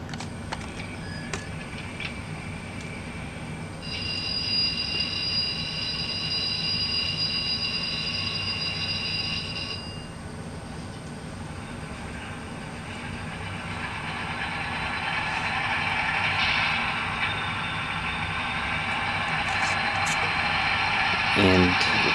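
A Broadway Limited N scale GE AC6000CW model diesel locomotive runs through its sound startup sequence: a steady electronic tone comes first, then a rising engine rumble settles into idle, mostly alone with faint background noise.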